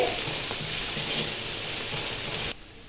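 Eggs and chopped vegetables for egg fried rice stirred together in a hot pan, giving a steady close sizzle with faint utensil scrapes throughout, then the frying noise drops away abruptly near the end.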